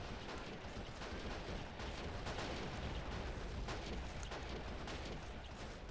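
An anti-tank gun booms repeatedly amid a dense, rumbling battle soundscape in the World War II strategy game Men of War: Assault Squad 2, with heavy, overlapping blasts and no voices.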